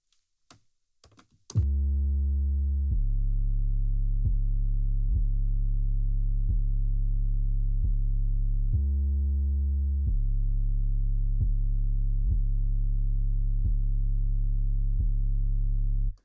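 Saturated 808 bass programmed in Native Instruments Maschine, a deep booming tone repeating in steady sustained notes with a pitch change partway through, loud and alone after a few faint clicks at the start.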